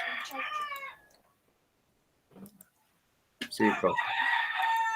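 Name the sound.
rooster crowing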